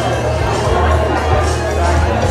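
Inside a busy bar at the ALcon 2010 convention, a large crowd keeps up a loud, dense wall of chatter and murmuring close by, with no pauses.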